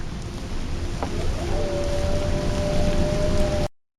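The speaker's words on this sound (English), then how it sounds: "That doesn't sound like wolves. No. No, I think that's a very angry goat man." A creature in the Voices of the Void game lets out a long, drawn-out, tonal growl that rises and holds over a steady rumbling, windy background before cutting off abruptly.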